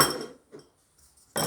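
A utensil clinks and scrapes against a dish while mixing scrambled eggs, with a burst of clattering at the start, a few faint taps in between, and another loud clattering burst at the end.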